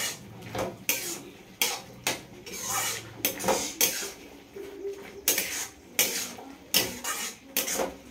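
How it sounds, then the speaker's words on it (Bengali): A utensil stirs banana flower curry in a cooking pot, making repeated scraping and clinking strokes in an uneven rhythm, close and moderately quiet, with no talking. "নাড়িয়ে চাড়িয়ে নামিয়ে নেব"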